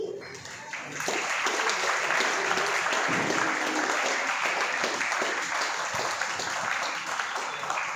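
Audience applause at a college mediation cell inauguration in Delhi, a dense, steady clapping from a crowd that swells after the first second and carries on loud and continuous to the end.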